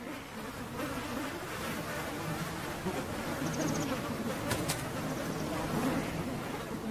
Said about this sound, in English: The air is now clouded by buzzing swarms of bloodsuckers.